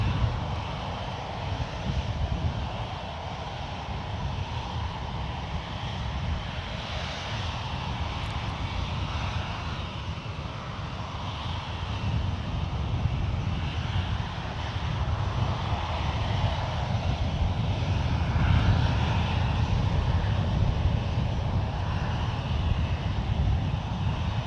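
Qatar Airways Airbus A350-1000 arriving from Doha at San Francisco International Airport, a continuous distant jet engine roar that swells slightly toward the end, steady and unbroken with no voices.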